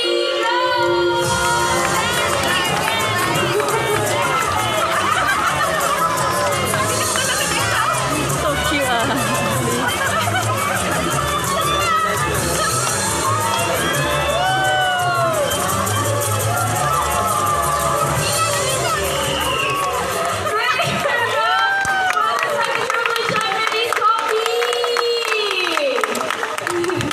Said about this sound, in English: Stanley supporters, come on guys, you have to cheer louder